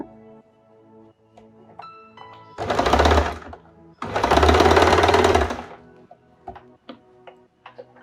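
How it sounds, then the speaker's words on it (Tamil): A sewing machine stitching blouse fabric runs in two loud bursts of rapid stitching, with quiet clicks and handling of fabric between them. "3வது பீஸ் வச்சு தைக்கிறோம்"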